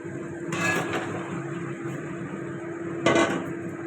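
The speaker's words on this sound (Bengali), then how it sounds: "এবার ম্যারিনেট করা চিকেনটা দিয়ে দিলাম।" Marinated chicken hitting a hot cooking pan, giving two loud bursts of hiss and clatter close by, the second shorter, over a steady kitchen hum with no talk.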